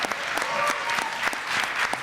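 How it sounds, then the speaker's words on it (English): Audience at a talk on anti-Blackness applauds the moderator, a brief, even burst of clapping filling the room without a pause. "Also, a round of applause for the moderator, too."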